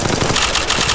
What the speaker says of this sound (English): Now try the R31 and shoot him down.